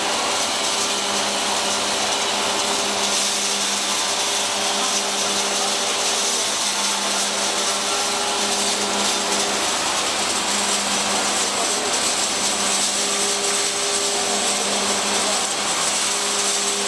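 A ring hammer crusher driven by a five-kilowatt motor crushes pebbles, small stones and screenings, giving a loud, continuous roaring grind with an unbroken mechanical hum throughout.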